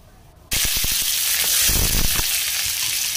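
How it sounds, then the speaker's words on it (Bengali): Potatoes dropped into hot oil with cardamom, cloves, cumin and bay leaf, erupting in a sudden loud sizzle after a quiet moment, with a few clattering knocks and then a sustained close hiss. "দেওয়ার পরে আমি আলুগুলো ছেড়ে দেব।"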